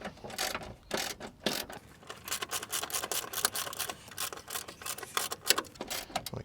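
12mm spanner tightening a bolt on a Mitsubishi Pajero Sport dual battery tray: rapid, irregular ratcheting clicks and metallic taps, close and fairly quiet, continuing throughout.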